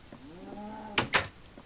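A Minecraft cow gives one drawn-out, clearly pitched moo near the listener. Two short, sharp bursts follow right after it, and no one talks.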